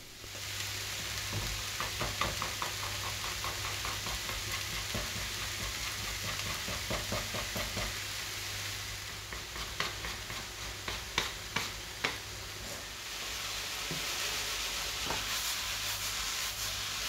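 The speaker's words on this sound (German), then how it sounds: "in die Pfanne, da kommen natürlich die Zwiebeln hinein. Die werden wir richtig gut und scharf anbraten" Onions frying hard in a hot pan give a steady, close sizzle with scattered crackles and pops, and a faint low hum runs underneath throughout.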